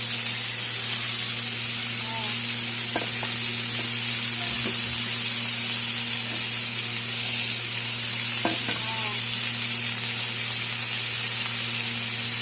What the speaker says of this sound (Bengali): বেগুন ভাজা হয়ে গেল, এর মধ্যে কেটে রাখা পালং শাকগুলো দিয়ে দিব।